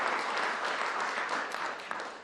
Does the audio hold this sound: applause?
yes